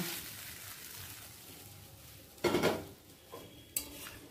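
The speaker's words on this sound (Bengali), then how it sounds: "পেঁয়াজ, টমেটো, কাঁচা লঙ্কাটা চিকেনের সাথে মিশিয়ে নেব।" A utensil stirs fried onion, tomato and green chilli into chicken in a pan for chicken do piaza, giving a few sharp scraping clinks against the metal over a quiet background hiss.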